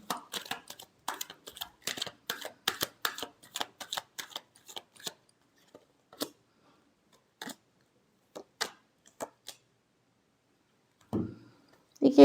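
Tarot cards being shuffled by hand: a dense run of quick riffling snaps for several seconds, then scattered single flicks and taps with pauses between, fairly close and alone, followed by a short thud near the end.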